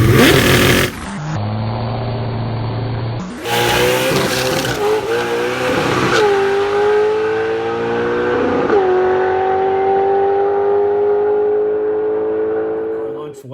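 A drag race car with a Clevor engine running on pump gas, launching loudly down the strip, engine pitch climbing through a brief shift and then a long rising pull, close and dominant.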